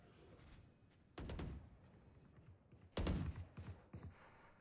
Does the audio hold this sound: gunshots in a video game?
yes